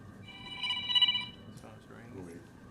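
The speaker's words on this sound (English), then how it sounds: "phone's ringing." A telephone rings faintly in a city commission meeting room, its trilling tone fairly distant, with people talking over and after it.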